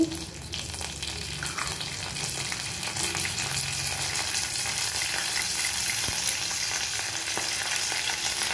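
Cashews and curry leaves fry in hot oil for semiya upma, a dense, steady sizzle with crackling and occasional stirring scrapes running throughout, close and fairly loud.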